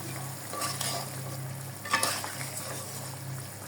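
Water coming to a boil in a pot for fish curry, a steady low bubbling hiss with faint clinks and one brief louder knock partway through, close by and with no talking.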